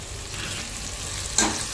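Fresh mint and coriander leaves sautéing in a pan with softened tomatoes: a steady, close frying sizzle, then one sharp stir or scrape near the end, with no talking.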